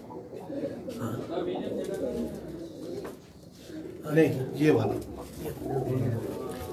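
Breeder pigeons, including a tali pigeon, coo in low, throaty murmurs, with a voice speaking over the birds throughout.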